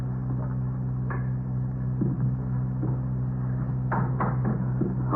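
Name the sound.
door being opened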